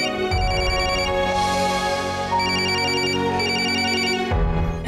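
A steady electronic phone ringtone plays loudly and continuously, a repeating melodic pattern with brief pauses between phrases, no voices.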